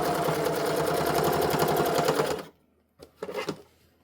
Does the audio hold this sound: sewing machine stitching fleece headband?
yes